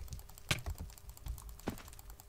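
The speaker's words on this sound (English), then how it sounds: "You guys can probably just hear me spamming my left click on my mouse." A computer mouse's left button is clicked rapidly during Minecraft Murder Mystery play, giving sharp, close clicks in an uneven, quick patter.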